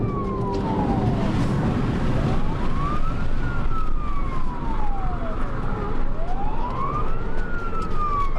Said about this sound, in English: I'm going to put in my blue lights on and the siren to pull him out.